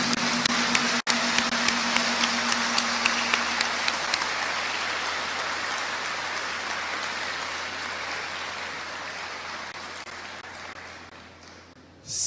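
Warm applause from an audience honoring a class of 103 students: dense, steady clapping that starts full and gradually thins and fades away over about twelve seconds.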